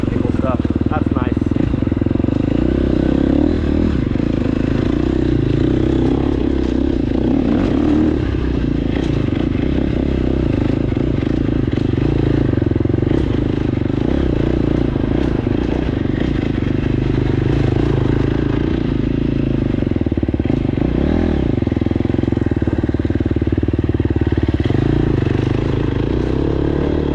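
A KTM 250SX-F four-stroke dirt bike engine runs steadily through a 27-second off-road ride, loud and close with a continuous drone, shifting revs and clattering over the trail, while a rider talks over it.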